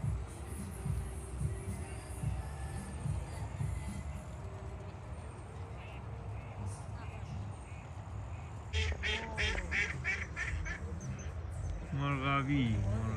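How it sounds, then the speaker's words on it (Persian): Ducks quacking on the water near a fishing spot, clusters of loud nasal quacks in the latter half over a steady outdoor background, with people talking nearby. "مرغابی"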